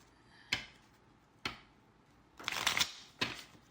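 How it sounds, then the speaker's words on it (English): Oracle cards are shuffled by hand in a quiet room, a few sharp isolated riffles and flicks followed by a longer rustling shuffle, close and clear with no talk. "All right, one more shuffle."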